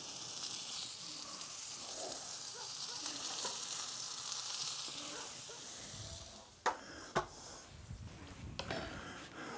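Filet mignon steaks sear on a grill with a steady, loud sizzle and hiss, broken near the end by a few sharp clanks of tongs or grates.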